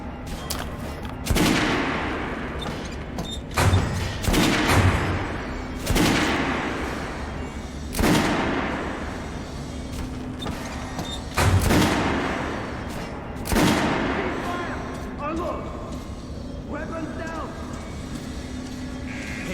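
Kalash rifle fire in the video game Metro: Last Light, several loud sharp shots and short bursts spaced a few seconds apart, with voices talking in between and underneath.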